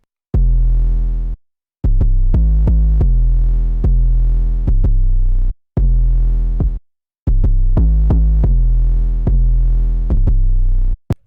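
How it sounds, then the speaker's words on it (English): Loud, deep 808 bass notes with punchy kick drum hits in a hoodtrap beat, long sustained booming tones shifting pitch in a rhythmic pattern with short gaps, played alone with no talk. "And finally is the 808s and the kick"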